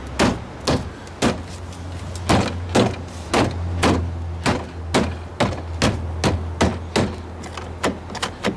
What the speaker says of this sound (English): Testing door lock. Lock, unlock, lock, unlock, release.